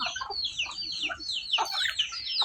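Chickens clucking on a rural Thai smallholding where chickens and ducks are raised, several birds calling close by in overlapping choppy clucks and squawks, steady throughout with no speech.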